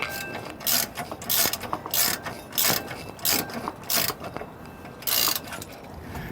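A ratchet wrench clicks in short repeated bursts as nuts are snugged down on a U-bolt holding a steering stabilizer bracket under a vehicle, with a steady rhythm of strokes, close but fairly soft.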